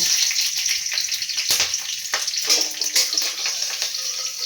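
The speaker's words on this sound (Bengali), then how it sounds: "কালো জিরে ফোড়ন দিয়ে দিলাম, আর এর মধ্যে কাঁচা লঙ্কাও দিয়ে দিচ্ছি দুটো।" Nigella seeds and two green chilies tempering in hot oil, a loud, close, crackling sizzle with sharp spits and bursts over about four seconds.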